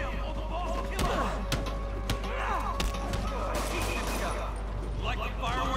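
An explosion and heavy gunfire-like thuds in the Spider-Man video game, with dense continuous action noise and a few sharp impacts over a steady low rumble, under game character dialogue.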